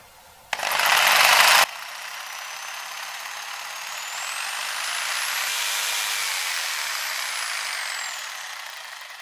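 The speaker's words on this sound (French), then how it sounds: "C'est une scie sauteuse, mais je pense que le résultat serait le même avec des scies sabres ou d'autres machines." A jigsaw powered by a portable generator cuts in one loud, close burst of about a second, followed by the generator's steady hum rising and falling slightly as it runs on alone.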